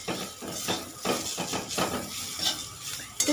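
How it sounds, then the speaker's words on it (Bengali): A spice masala of onion and tomato sautés in a pan, with continuous scraping and clattering of a spoon against metal, steady stirring strokes over a faint sizzle, close and moderately loud. "এবার মশলাটাকে এখন কষাবো"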